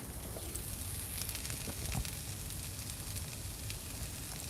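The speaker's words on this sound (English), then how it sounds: "I'm going to grab my sweet cooking wine and just give this a really quick little deglaze" Morel mushrooms sizzle hard in a hot pan as sweet cooking wine hits for a quick deglaze, a steady dense hiss and crackle with small pops throughout, fairly faint and close.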